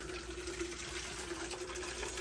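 Water pours steadily onto a potted tomato plant, a continuous splashing hiss of moderate loudness with no voices.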